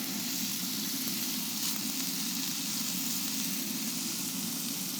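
Bacon lardons frying in grapeseed oil over an open flame in an outdoor kitchen give a steady, even sizzle and crackle that holds at the same level throughout, with no voices.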